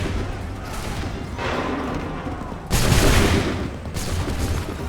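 Musket volleys from soldiers opening fire in Assassin's Creed 3, several loud ragged bursts of overlapping shots with booming rumble, the heaviest about midway, close and dense with no talk.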